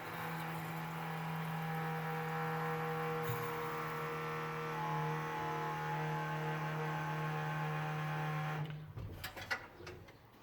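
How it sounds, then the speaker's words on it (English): An electric fuel pump on a crusty Ford F-100 runs with a loud, steady whine and hum for about nine seconds close by, then cuts off, leaving a few scattered clunks. "Now we should be able to touch our battery terminal and our fuel pump will turn on."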